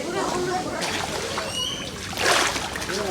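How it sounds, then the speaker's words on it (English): A person swims through murky swamp water, making continuous close sloshing and splashing under steady talking. "Swimming through the middle of the jungle."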